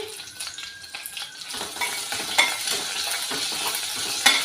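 Ginger pieces and green chillies fry with mustard seeds in a pan for millet sambar rice. A close sizzle with stirring and occasional utensil clinks builds in loudness, with no talk.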